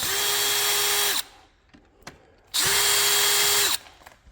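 Cordless power drill backing out two screws from a Harmony window tilt latch: two whirring bursts of about a second each, separated by small clicks and handling noise, close and loud.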